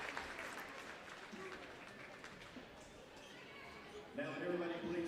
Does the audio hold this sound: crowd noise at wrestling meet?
yes